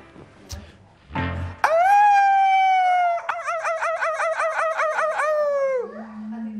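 A man imitates a hyena howling, opening with a brief breathy noise and then a loud sustained wavering howl that turns into a rapid warbling yodel before trailing off, close and alone.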